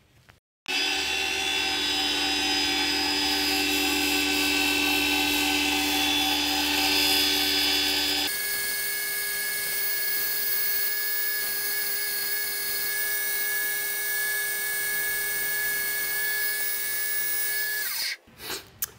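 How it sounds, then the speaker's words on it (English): A wood lathe runs in reverse while a Spectraply pen blank is sanded, giving a steady high whine with a constant tone that drops to a lower, smoother pitch partway through, then stops near the end. "I'm going to turn the lathe on reverse"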